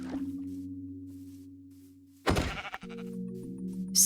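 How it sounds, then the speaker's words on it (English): Minecraft sheep bleating in the game world, two drawn-out wavering bleats separated by a short burst of blocky game noise, clear and close with no talking. "Oh, there's a sheep."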